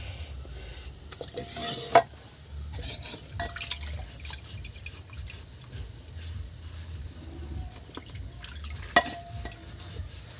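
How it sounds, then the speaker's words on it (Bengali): Banana slices frying in a pan in a rustic village kitchen, giving a low steady sizzle with occasional scrapes and two sharp clinks, moderately quiet and close. "এদিকে কলা ভাজি বসিয়ে দিয়েছি।"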